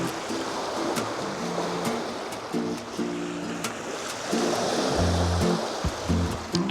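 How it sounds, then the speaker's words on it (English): Ocean waves wash onto a beach as the tide comes in, a steady rushing surf that swells louder toward the end, with faint low hums and occasional clicks in the background. "Look at the tide is coming in."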